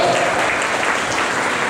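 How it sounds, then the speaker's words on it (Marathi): An audience at a helmet awareness campaign event claps continuously for students being named, a dense, sustained round of applause with a voice faintly beneath it. "टाळ्या थांबल्या नाही पाहिजे"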